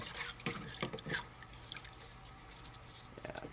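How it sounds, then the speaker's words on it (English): Water runs and drips while soaked metal parts are rinsed clean before welding, producing faint, intermittent splashes and patter from a tap or sink. "Got them all rinsed off, gotta dry them off so they don't rust before I weld them."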